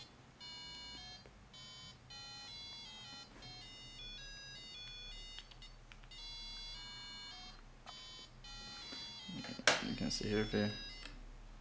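Small speaker driven directly by an ARM Cortex-M3 processor's digital-to-analog converter, emitting a run of quiet electronic tones and beeps that shift in pitch, with someone briefly speaking and a louder clatter near the end.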